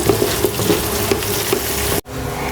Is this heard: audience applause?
no